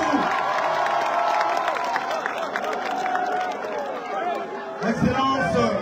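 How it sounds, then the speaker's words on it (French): A political rally crowd in Moanda for candidate Oligui Nguema cheers and claps loudly and continuously, with shouting and chatter in the mix and voices heard over the noise. "Applaudissez pour vous,"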